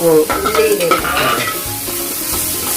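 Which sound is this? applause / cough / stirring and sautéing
stirring and sautéing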